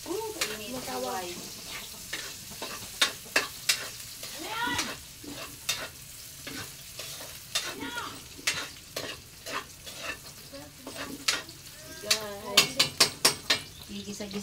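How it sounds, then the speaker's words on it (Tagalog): Garlic frying and browning in a pan, a steady sizzle beneath repeated sharp scrapes and clacks of a utensil stirring it, close and lively, with brief voices now and then. "Dapat po i-brown natin ang bawang."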